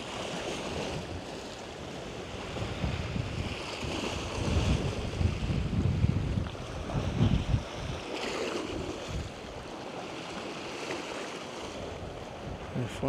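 Strong wind and surf on the coast at Sint-Annaland in the Netherlands during a windy to stormy afternoon, a continuous roar of gusts buffeting the microphone over breaking waves, swelling midway then easing, no voices.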